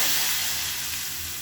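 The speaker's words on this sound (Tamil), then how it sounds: "கடுகு, வரமிளகா, சீரகம், பெருங்காயம் போட்டு தாளித்து அதை கொட்டிடலாங்க." Loud, steady sizzling of mustard seeds, dried red chilies, cumin and asafoetida frying in hot oil, a continuous crackling hiss close up with no voices.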